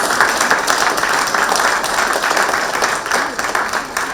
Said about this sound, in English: let's once again give a warm round of applause to welcome our guests to the dais